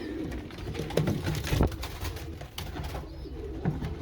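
Racing pigeons coo softly in a loft, several overlapping low throaty calls close by, with faint fluttering and shuffling in between and no speech.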